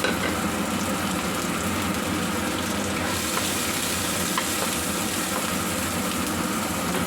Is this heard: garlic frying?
yes